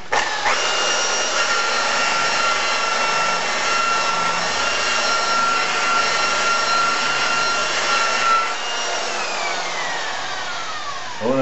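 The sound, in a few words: buffer polishing car paint with cutting compound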